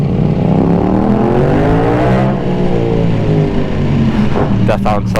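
Ducati Panigale V4S motorcycle engine revving loud and close, a sustained roar with rising and falling pitch, ending in a few sharp throttle blips.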